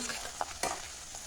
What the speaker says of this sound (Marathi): हे बघा तेल चांगलं गरम झालं म्हणून आता किती मस्त भाजायला लागेल बघा